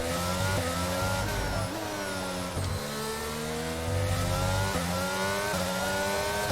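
An F1 car engine screams through a qualifying lap of the Mexican Grand Prix in the F1 22 video game, revving high and dropping pitch at each upshift in steady repeated sweeps, loud and constant with no voices.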